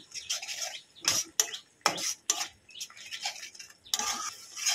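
Spice masala being stirred and scraped with salt in a pan for dahi bhindi, heard as a string of sharp, close scraping and clattering bursts with short pauses between.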